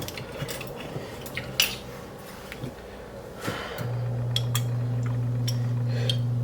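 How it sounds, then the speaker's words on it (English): A whisk clatters and clinks irregularly against a bowl as ingredients are beaten smooth in a home kitchen. The close metallic taps are scattered and light, and a steady low hum joins partway through. "So you want to whisk these until they're very smooth"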